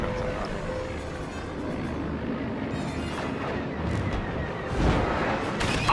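Rumbling blaster and cannon fire in the Star Wars Battlefront II space battle, dense continuous booming with engine roar underneath and a heavier blast swelling near the end, loud and close.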